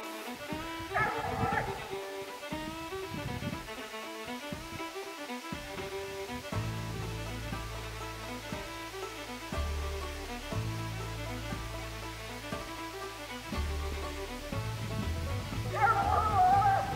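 A Bluetick or Walker coonhound barks and bays while treeing a raccoon outdoors, repeated yips and whimpering howls in uneven bursts at middle distance, with people talking quietly over them.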